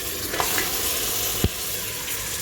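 Marinated mutton frying with masala in a pan for mutton biryani, a steady close sizzle with scraping stirs and a couple of sharp knocks of the spoon, no talking.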